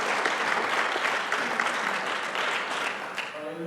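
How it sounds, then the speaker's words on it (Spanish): A church congregation claps together in dense, steady applause that fades slightly toward the end, with faint voices mixed in. "Denle un aplauso al Señor."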